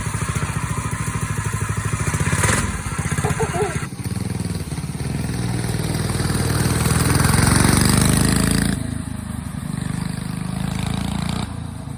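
A Predator 212 small engine fitted with a stage kit runs on a shopping cart build, a loud steady motorcycle-like drone that rises in pitch through the middle and eases back, with faint voices nearby.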